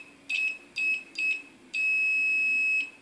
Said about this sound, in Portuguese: se a gente encostar uma ponta de prova na outra, ele vai apitar.